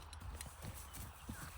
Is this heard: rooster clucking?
no